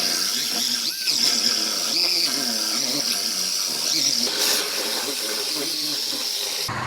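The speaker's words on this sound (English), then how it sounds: "I'm gonna go ahead and get this outer panel cut off" A power tool cuts through a car's outer body panel steel up close, a shrill, steady high-pitched whine with grinding rasp and small wavering pitch shifts that carries on continuously without pause.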